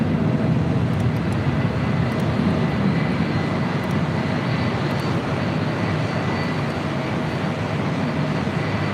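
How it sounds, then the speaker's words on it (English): Airbus A350 jet engines spool up for takeoff at LAX, a loud, continuous broadband roar that stays steady throughout with no voices over it. "Lufthansa Flight 453 heading back to Munich in an A350 now lighting up"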